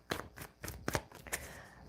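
Tarot cards are shuffled by hand in quiet, uneven bursts of riffling and sliding, four or five short flurries close to the microphone, with no talking.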